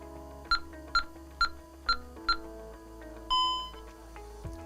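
A home security alarm keypad sounds five short, evenly spaced beeps as a four-digit user code plus one is keyed in, followed by a longer confirmation tone over a faint electronic hum.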